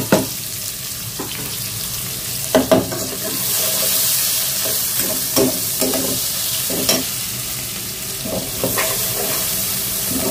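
Chopped onions fry in hot oil with cloves and bay leaves, a continuous sizzle broken by sharp scraping stirs of a spatula against the pan, with no talking.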